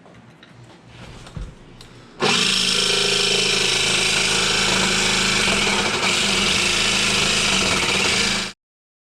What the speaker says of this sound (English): we're just going to use a jigsaw with a metal blade